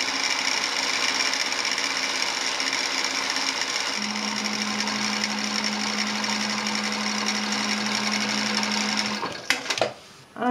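A sewing machine topstitches down the edge of a jeans button placket, its steady fast mechanical whir running continuously for about nine seconds before stopping with a few handling clicks at the end.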